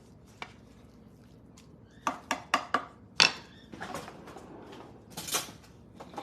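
Food is put onto a plate in a home kitchen, with a run of light clinks and knocks of utensils against dishes, close and sporadic, against a quiet room.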